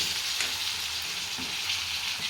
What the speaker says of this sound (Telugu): ఇదంతా ఆయిల్లోనే సిమ్లోనే మగ్గనివ్వాలి.